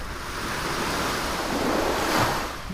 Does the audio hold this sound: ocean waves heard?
yes